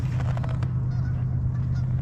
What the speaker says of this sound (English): these ducks and geese, how on earth they survive in that water, I don't know.